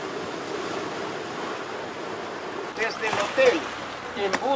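Rough ocean surf at a Galápagos island shore rolls as a continuous broadband wash, fairly close, with a brief voice-like sound breaking through near the end.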